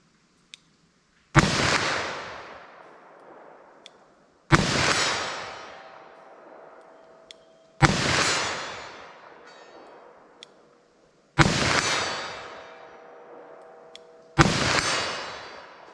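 Handgun shots from a .357 Magnum and a .357 Sig fired at a target 75 yards away. Five loud single reports come several seconds apart, and each has a sharp crack followed by a long, decaying echo.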